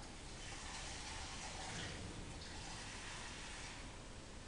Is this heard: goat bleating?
no